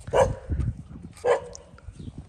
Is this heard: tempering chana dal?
no